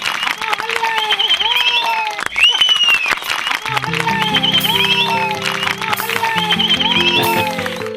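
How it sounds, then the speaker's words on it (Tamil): Village audience at a local-government panchayat gathering in Tamil Nadu clapping and whistling, a steady dense wash of applause with shrill whistles over music, loud and continuous throughout. "இந்த கைத்தட்டல் விசில்லாம் எதுக்குன்னு எனக்கு நல்லா புரியுது"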